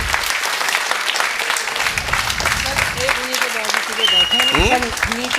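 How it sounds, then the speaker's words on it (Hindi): An audience at a stage event breaks into sustained applause, a dense wash of clapping that swells louder near the end, while someone speaks over it through a microphone. "मैं चाहता हूं आप सभी की तालियां एक बार उनके लिए शानदार होनी चाहिए।"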